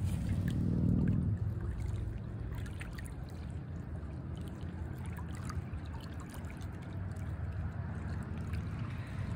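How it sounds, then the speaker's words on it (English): Water gently lapping at a clear lakeshore in autumn, a soft, continuous low wash with faint trickles, fairly quiet and steady, with no voices. "I'm going to try to have you hear the lapping of the water here."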